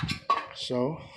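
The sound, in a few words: plastic box clattering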